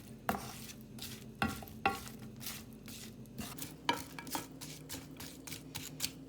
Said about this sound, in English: Then I'm going to mix properly.